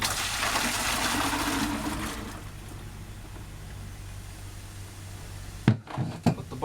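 Kombucha tipped from a brewing vessel into a bottle, a steady splashing pour for about two seconds that fades into quiet gurgling, followed by a few close knocks and clunks near the end.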